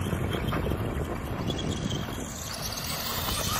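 A SKYRC Super Rider SR5 RC dirt bike runs at full throttle on a 3S battery, giving a loud, steady, close motor roar that holds without a break for the whole stretch.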